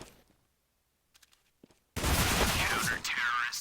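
Gunfire in a CS:GO match at an ESL Premiership grand final: near-silence with a few faint ticks, then a sudden loud, sustained burst of rapid shots.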